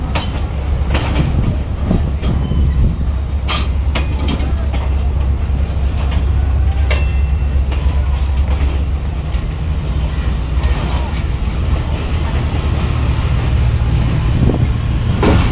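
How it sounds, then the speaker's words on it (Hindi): Allama Iqbal Express passenger train in motion, heard from inside as a loud, continuous rumble and roar with wheel clatter and occasional squeals, steady throughout with no break. "अभी चलती ट्रेन का थोड़ा सा जायज़ा लेते हैं"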